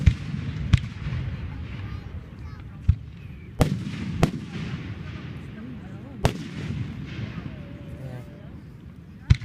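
A 2015 fireworks display at Mentor High School: sharp, cracking bangs go off irregularly, about eight across the span, over a murmur of people talking in the background.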